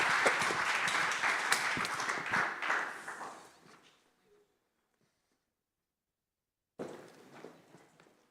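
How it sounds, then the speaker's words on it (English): An audience at a space-sector conference applauds its panelists, a crowd clapping steadily for a few seconds before fading into silence, followed by a short burst of movement or scattered sound near the end. "It's actually applause for the panelists, which are great."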